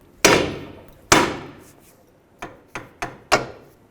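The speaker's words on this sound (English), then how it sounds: "using a hammer, I'm going to hit right here and hopefully break free the tie rod from the knuckle" Six sharp metallic hammer blows on a tie rod at the steering knuckle of a 2003-2007 Nissan Murano, two heavy ringing strikes followed by four lighter quicker taps, close up with no talking.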